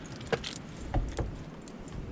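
Keys jangle up close as someone starts a Dodge Cummins truck. A few quick metallic clinks and rattles come in short bursts, fairly faint, with no talk.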